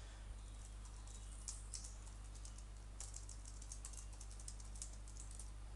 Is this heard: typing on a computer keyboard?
yes